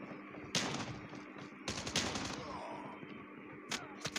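Call of Duty shotgun blasts: three sharp, loud reports spaced irregularly over a few seconds, each with a brief crackling tail, over steady low game ambience.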